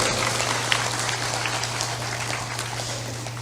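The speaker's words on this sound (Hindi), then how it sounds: "थोड़ा जोरदार ताली बजाया करो" An audience at a spiritual satsang gathering claps together in a continuous, crowded patter of hands, steady and moderately loud over a constant low electrical hum, with no speech.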